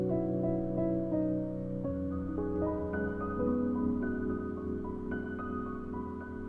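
A complete lofi beat made in FL Studio plays with stacked piano layers holding warm sustained chords that shift every second or so, steady and smooth with no talking.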